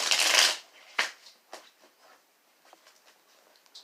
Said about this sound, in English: What I'm doing now is shuffling my cards,